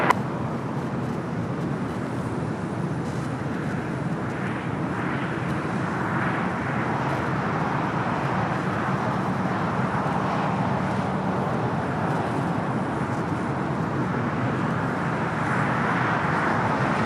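An aircraft flies near LAX in a steady, broad roar that holds for about seventeen seconds, moderately loud with a slight swell, with faint traffic and wind underneath and no speech.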